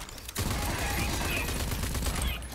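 Dense, sustained automatic gunfire from enemies in the video game Rage 2, a loud continuous burst of rapid shots starting abruptly and running without pause.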